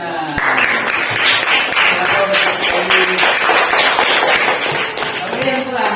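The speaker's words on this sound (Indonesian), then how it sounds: "beri tepuk tangan kepada kelompoknya Rena" Fifth-grade pupils in a classroom applaud a student group with fast, uneven hand claps close by, while voices chatter and call out over the clapping throughout.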